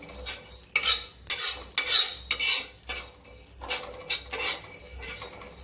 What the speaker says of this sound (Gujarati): થોડી વાર એમને હલાવીશું કારણ કે નીચે તળીએ દાજી ના જાય